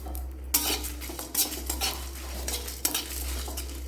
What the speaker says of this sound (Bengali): দিয়ে খুব সুন্দর করে মশলাটাকে ভেজে নিচ্ছি